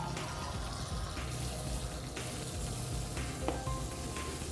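Tap water pours steadily into a sample glass, a close, continuous hissing splash with faint clinks and no speech.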